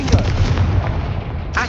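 A Confringo fire spell blast in the video game Hogwarts Legacy, a loud booming burst with a rumbling tail that fills the whole moment, then a brief sharp crackle at the end.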